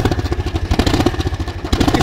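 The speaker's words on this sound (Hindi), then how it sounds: "इस तरीके से आवाज कर रहा है हमारा जो ट्रैक्टर है।" Diesel tractor with a burst silencer running loud and close, a raw, rapid thudding exhaust beat that pulses steadily without pause.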